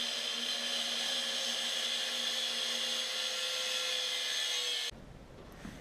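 A loud, steady high-pitched whine from a power tool cutting a metal turbo pipe for a Datsun 280Z turbo install runs continuously, then cuts off abruptly, leaving quiet workshop sounds.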